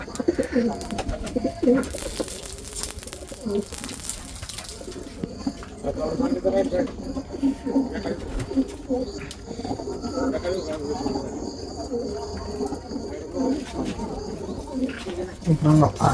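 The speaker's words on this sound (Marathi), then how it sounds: "अशी कबूतर" Pigeons coo repeatedly at close range while people talk over them and there is background commotion.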